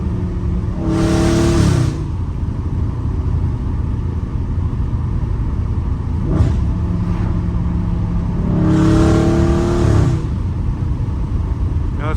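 Dodge Charger Scat Pack engine heard from inside the car, revving hard in two loud surges of acceleration with rising pitch, separated by a lower steady drone and a brief shift blip.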